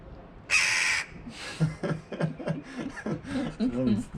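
A black raven gives a loud, harsh croak nearby, followed by a softer string of guttural calls and clucks, with faint voices in the background.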